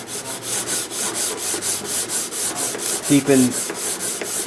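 A sanding block rubs steadily back and forth along a wooden guitar fingerboard, a dry, rhythmic scraping in even strokes close up, with a brief louder knock or scuff near the end.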